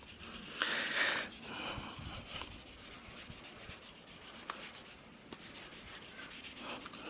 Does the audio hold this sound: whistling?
no